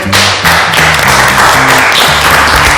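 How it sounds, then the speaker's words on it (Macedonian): An audience applauds a guest judge on a cooking reality show, loud dense clapping filling the whole stretch, with music playing underneath. "Еден голем аплауз за моја"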